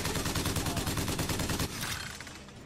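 Rapid automatic gunfire from the video game Bioshock Infinite rattles in a dense burst, then breaks off into a scattered tail of quieter shots and echoes.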